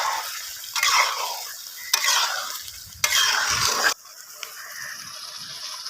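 A spoon gently turns chicken liver pepper fry in a hot pan, making three loud bursts of sizzling stirring followed by a quieter simmer.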